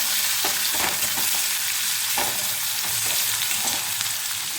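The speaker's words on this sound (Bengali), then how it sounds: "ভালোভাবে একটু ভেজে নেব 1 মিনিট সময় নিয়ে।" Onion sizzles and fries steadily in hot oil with cloves and cumin in a pan over medium-low gas flame, for a Bengali katla kalia. Several stirring scrapes punctuate the continuous close crackle, and nobody speaks.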